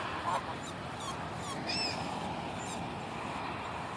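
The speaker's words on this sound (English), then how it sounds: "all the birds are going crazy right now" A busy flock of geese and ducks honks and quacks at a moderate distance over a constant wash of outdoor noise, calls scattered and overlapping.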